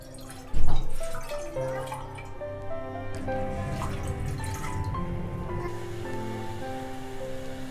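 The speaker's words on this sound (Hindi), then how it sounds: "सबसे पहले तो हम पैन में 2 कप पानी के डालेंगे।" Water is poured into a pan for a home remedy, a sharp splash at the start followed by a steady, close trickling and dripping that runs on without talk.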